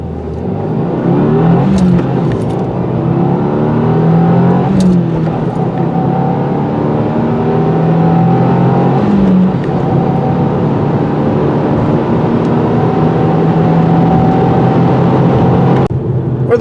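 A turbocharged small engine in a 2024 Subaru WRX TR revs up loudly and close, climbing in pitch, dropping briefly at each gear change, then climbing again several times.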